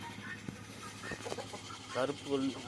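Chickens clucking nearby in short bursts, with a few louder squawky calls near the end over a quiet outdoor background.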